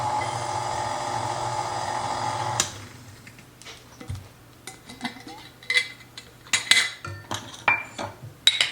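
Banana bread batter being mixed in a bowl with flour: a steady whirring hum for a few seconds, then irregular clinks and scrapes of a utensil against the bowl, close and fairly quiet.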